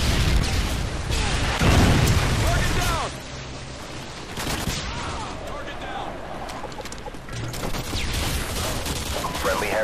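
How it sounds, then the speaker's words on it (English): Predator missile strike and surrounding gunfire in Modern Warfare 2 Domination on the Highrise map, heavy bursts of shots and booms dense for the first few seconds, then a lower steady barrage of distant fire and impacts. "Friendly Predator missile incoming."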